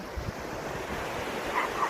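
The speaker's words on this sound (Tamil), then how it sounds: "அலைகள்" Ocean surf rolls and breaks steadily on a beach shore, a continuous wash of waves with gusting wind noise on the microphone, fairly loud and close, with no voices.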